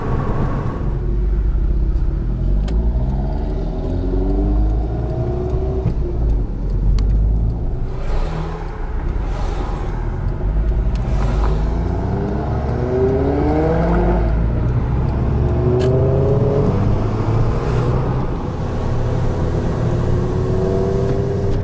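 Volkswagen Golf GTI MKVI with a straight-piped exhaust accelerating through the gears, its engine note rising and dropping repeatedly with loud, close, raspy revs and no talking.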